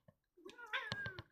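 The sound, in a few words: cat meowing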